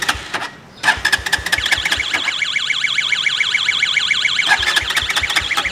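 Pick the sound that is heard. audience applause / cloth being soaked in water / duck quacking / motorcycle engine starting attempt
motorcycle engine starting attempt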